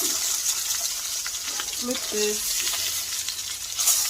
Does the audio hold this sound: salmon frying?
yes